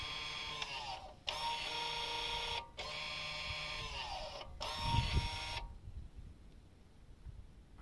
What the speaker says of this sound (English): you can hear those pads clamping back up